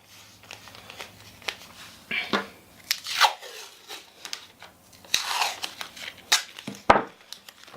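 Masking tape handled, torn and pressed into place while building a pattern for a cheap dollar-store Jason Voorhees hockey mask: scattered sharp rips and crinkles, close to the microphone, with quiet gaps between.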